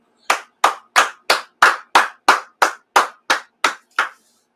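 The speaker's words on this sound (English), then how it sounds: "Let's clap it up." Hands clap in a steady unison rhythm, about a dozen sharp, evenly spaced claps ringing out alone in a quiet space.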